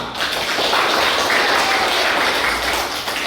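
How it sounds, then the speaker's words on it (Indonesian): A classroom group claps together in a dense, steady burst of applause that fills the whole stretch at high volume, with no single claps standing out. "Tepuk tangan buat kelompok amanah."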